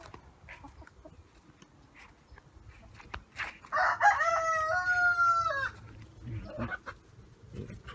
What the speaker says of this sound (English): there's another EE rooster